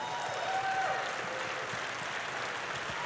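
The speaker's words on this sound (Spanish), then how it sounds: "Dale un aplauso al Señor." A church congregation claps for the Lord in a continuous, full round of applause that stays steady throughout, with a faint voice or tone drifting underneath.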